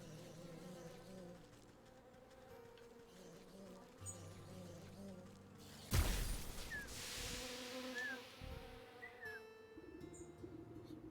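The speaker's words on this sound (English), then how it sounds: "let's piss off all these bees" Angry bees buzz in the Wytchwood video game, a dense continuous insect drone with a sudden louder swell midway, under quiet game music and no talking.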